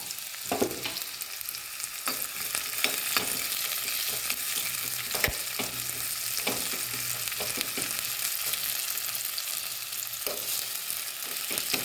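Onions fry in two tablespoons of coconut oil for a Kasaragod chicken curry, a steady close sizzle broken by stirring scrapes and a few sharp clicks, with no voices.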